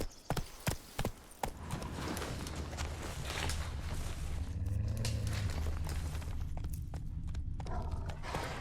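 Hooves of Roach, Geralt's horse in The Witcher 3: Wild Hunt, clop in a steady walking-to-trotting rhythm over ground, with a brief snort midway and quieter steps near the end.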